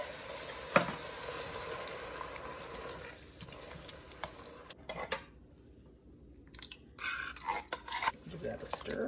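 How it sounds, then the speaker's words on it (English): Canned tomatoes stirred into sauce in a pan for chicken parm, with a spoon scraping and clinking against the pan and a faint simmering sizzle underneath, quiet and close, with occasional louder scrapes. "Add one, give it a little stir, and then add the next one."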